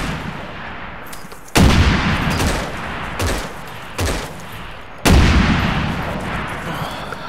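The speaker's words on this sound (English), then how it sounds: "Grenade's going out to the center." Heavy blasts in a World War II shooter game, two big booming hits about three and a half seconds apart and a smaller burst between them, all over continuous distant gunfire and battle noise.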